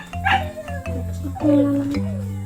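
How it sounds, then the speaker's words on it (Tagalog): A puppy lets out high, short yips with a whine-like tone, close and fairly loud, in a short burst over a steady low hum. "Ito ba yung tuta dati?"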